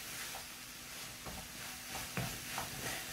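Mallow leaves cooking with cumin in a pan give a soft steady sizzle, with a few quiet scrapes and clinks of stirring scattered throughout.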